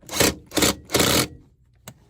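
Drilling through a wall to run ethernet cable: three loud grinding bursts of the drill biting into the wall, each about a third of a second, followed by a short faint knock.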